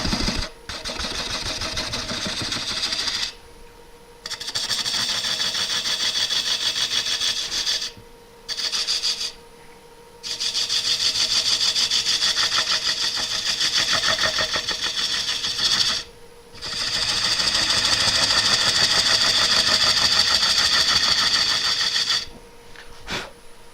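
Wood lathe spinning at 393 RPM during lacquer finishing, a steady motor hum broken by several bursts of scraping, rubbing friction as a tool or cloth meets the turning wood, with short pauses between passes.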